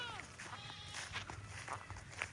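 Goats in their pen on a small farm, several bleats rising and falling at close range, mixed with shuffling footsteps and someone talking nearby.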